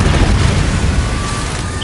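A Confringo fire spell explodes in Hogwarts Legacy as a loud, sustained rumbling boom with a fiery crackle, no voices over it.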